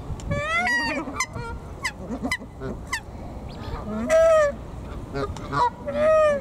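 Nene geese at Arundel honk over and over, several birds calling close by in loud nasal bursts that overlap one another.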